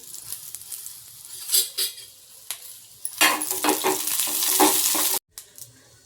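Jowar dosa fries in hot oil with a close sizzle, broken by scraping stirs and light clinks, and the sizzle swells louder toward the end before a short cut.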